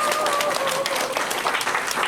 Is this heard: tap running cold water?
no